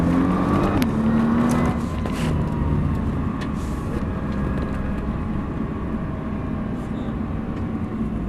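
Nissan GT-R engine held at full throttle on a race circuit, a loud continuous roar with a rising tone near the start, steady to the end of the clip.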